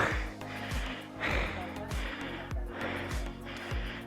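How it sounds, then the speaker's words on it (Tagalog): Heavy, rhythmic panting after a hike along a trail to Dingalan, with loud breaths recurring roughly every half second close to the microphone, continuous across the stretch with no talking. "Grabe yung hingal ko."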